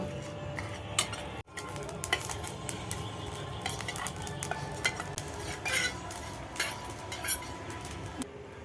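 Dry chillies, coriander and cumin fry in a kadai, a faint low sizzle beneath frequent metal-spoon scrapes and clinks of stirring against the pan.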